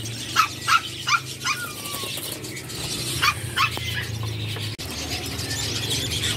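Dogs in a pet bird shop give a quick run of sharp barks and yips close by, then a few more barks after a short pause, with faint shop ambience underneath.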